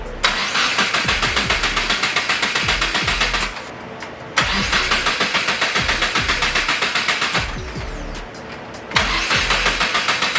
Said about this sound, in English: Try to start the car. It's gonna sound really bad,